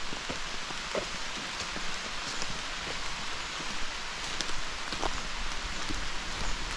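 Steady rain patters down on forest leaves and ground in Thailand, a dense even hiss with occasional louder drops, no voices.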